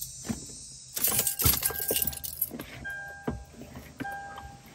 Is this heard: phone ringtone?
no